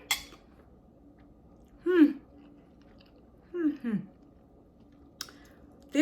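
Close, wet chewing of oven-baked chicken with potatoes, in three or four short bursts separated by quiet pauses, with faint clicks between them.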